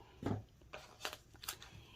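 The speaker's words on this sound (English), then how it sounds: "we got to use the right scissors here" Scissors snip through foam tape while packaging mini donuts, giving a few faint, close, irregular cutting and crinkling sounds.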